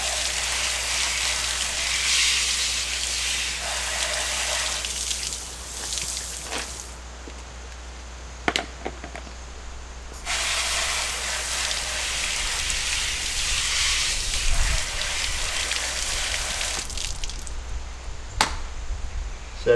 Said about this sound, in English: Rinse the dust out of here because they're going to dry up and have dustiness